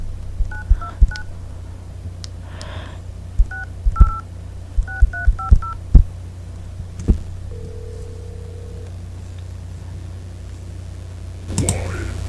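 Telephone keypad tones dial a number as a rapid sequence of short dual-tone beeps in irregular bursts with key clicks, followed by a longer steady tone, quiet and close.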